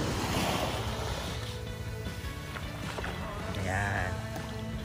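Surf washes onto Agas Beach in Puerto Galera, a steady broadband rush of waves with wind buffeting the microphone, while voices talk over it.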